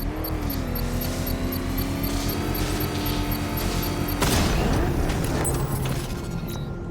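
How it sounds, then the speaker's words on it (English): A controlled explosion goes off in the Batman: Arkham Knight video game, a sudden loud blast cutting through a humming mechanical drone and fading into rumbling debris. "I can use the power winch to trigger a controlled explosion."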